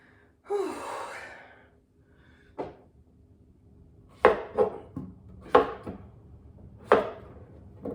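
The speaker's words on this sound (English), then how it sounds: "Now I'm going to chop some zucchini." A kitchen knife chops zucchini on a board in a few sharp, separate strikes spaced a second or so apart, after an audible breathy sigh at the start, in an otherwise quiet room.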